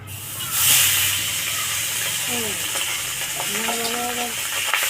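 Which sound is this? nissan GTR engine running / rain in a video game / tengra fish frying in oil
tengra fish frying in oil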